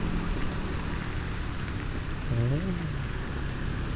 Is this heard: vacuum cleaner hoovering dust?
no